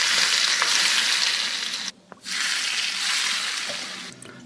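Hot oil is poured over a bowl of biangbiang noodles topped with chili flakes, garlic, scallion and chives, giving a loud, steady broadband sizzle that cuts out briefly midway, then resumes.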